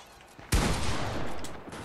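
Gunfire in Fortnite shooting a wall open, a sudden loud volley of rapid shots that keeps rattling on after a quiet start.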